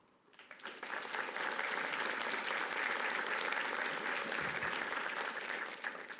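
Audience at a tier III meeting breaks into applause that swells within the first second and holds as a full, even round of many clapping hands until the end.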